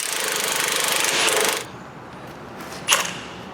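An impact gun hammers the anti-roll bar linkage loose on a Ford Galaxy. It gives a loud, rapid rattling burst for about a second and a half, then cuts off, followed by a single metallic clink nearby.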